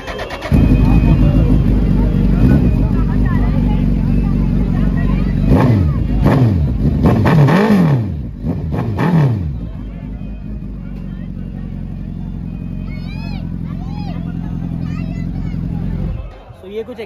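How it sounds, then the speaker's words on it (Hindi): A motorcycle exhaust idles loudly, then revs sharply several times in quick succession before settling back to a steady idle, with voices faint in the background. "ये कुछ एग्जॉस्ट नोट था, काफ़ी अच्छा लगा।"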